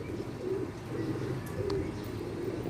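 Pigeons at a Karachi rooftop loft give soft, low coos at a steady rhythm. Light chirps rise over a quiet, even background, with no clear talk.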